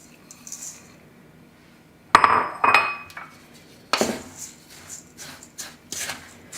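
Coconut and graham crumbs are mixed into a melted mixture in a bowl, heard as intermittent scraping and clinking of a utensil against the bowl in short bursts, with quiet pauses between.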